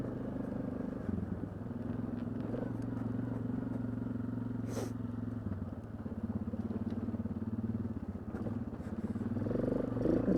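Suzuki KingQuad 750 ATV engine running smoothly with a steady, even hum and slight variations in revs, heard up close from the rider's position without speech.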